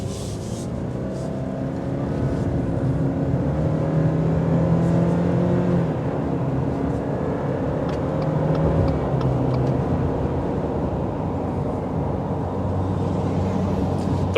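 A 2023 Subaru Crosstrek Premium accelerates on the road, its engine rising into a steady, droning rev with tire and road noise underneath for the whole stretch.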